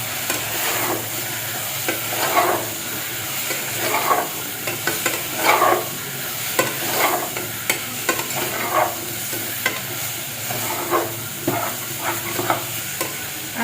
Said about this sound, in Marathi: आता हे सगळं परतून घ्यायचं परत.